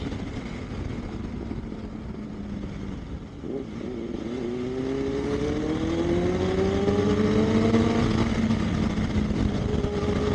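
Benelli 600i and Dominar 400 motorcycles riding on a local road, a steady engine drone with rising exhaust pitch as one accelerates, heavy wind rush over it, close and continuous.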